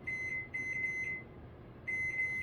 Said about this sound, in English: I'm going to set the timer for 20 minutes